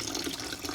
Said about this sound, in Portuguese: Só passar na água corrente para tirar o cloro que fica